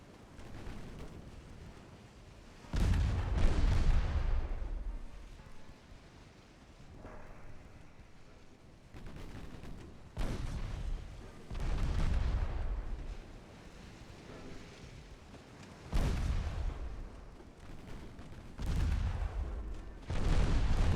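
3-inch naval guns fire in a naval warfare video game set in a 1947 Ottoman campaign, sending out several deep booming salvos at irregular intervals, each decaying into a rumbling tail over low background noise.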